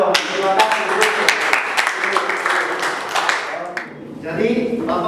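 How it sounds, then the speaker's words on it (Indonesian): A church congregation claps in applause during a sermon, a dense patter of handclaps lasting several seconds, briefly dipping before a lighter second burst. "tepuk tangan dong"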